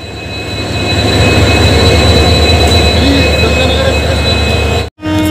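At an Indian railway station after rain, a train rumbles loud and close in a continuous heavy roar with faint high squeals, then cuts off abruptly near the end.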